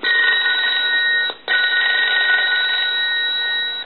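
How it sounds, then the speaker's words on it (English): An animated M&Ms Polyconcept novelty telephone rings with a continuous bright electronic trill, loud and close, broken by one short gap before the ringing resumes and carries on steadily. "I want to go ahead and ring the telephone, and it'll go into the animation mode while it's ringing."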